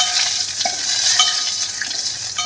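Dry red chillies, bay leaf, cinnamon stick and cloves sautéing in hot oil for traditional Gujarati wedding-style dal, a steady close sizzle with faint stirring scrapes throughout, no voices.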